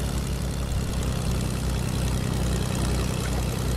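A propeller airplane engine drones steadily in a battle royale video game, a loud constant low-pitched roar with no breaks for the whole stretch.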